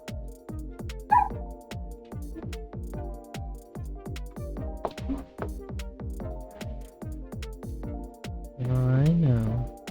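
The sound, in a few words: pet dog barking and whimpering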